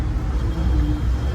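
A continuous low engine rumble from stalled highway traffic in a jam, close and fairly loud, with no distinct events breaking the drone.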